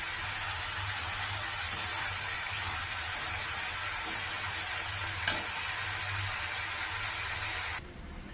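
A broad beans masala curry with chopped coriander is stirred in a pan, giving a loud, continuous sizzle and hiss with occasional scraping. The sound cuts off sharply near the end.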